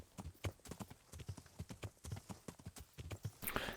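Horse hooves clip-clop at a brisk, steady rhythm while riding in the medieval game Kingdom Come: Deliverance, close and clear, with no talk over them.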